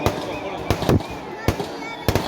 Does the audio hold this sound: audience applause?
no